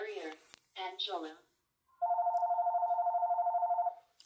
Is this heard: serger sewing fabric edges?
no